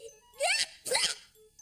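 Two quick, sharp bursts of breath, a sniffly build-up followed by a sneeze-like explosion, close and fairly soft.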